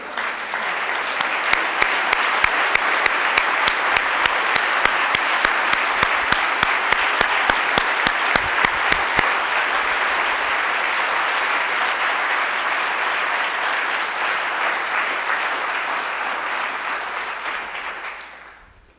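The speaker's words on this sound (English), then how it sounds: "can you all please stand up so we can applaud your work?" A literary awards audience breaks into a long, full round of applause, many hands clapping steadily and evenly for almost twenty seconds before fading out near the end.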